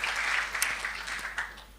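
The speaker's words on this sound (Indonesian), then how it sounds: "Kita beri tepuk tangan dulu buat praise and worship kita," A church congregation at a Sunday morning service applauds for the praise and worship team, a fairly faint, steady wash of clapping with a few sharper claps, no talk over it.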